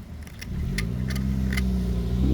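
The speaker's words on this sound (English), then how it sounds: "There's cars driving by" A car passes on a road near a mountain overlook, its engine and tire noise building steadily from quiet to a close, loud low drone, with a few light metallic clicks early on; no one talks.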